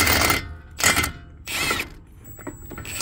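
Ratchet socket wrench clicking while loosening brake caliper bolts on a 2015 Audi Q7, several short close bursts of metallic ratcheting separated by brief pauses.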